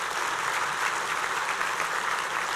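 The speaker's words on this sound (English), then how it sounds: "Let's give them a big round of applause" A breakfast audience claps in a steady, dense burst of applause that holds at an even level from start to finish, with no voices rising above it.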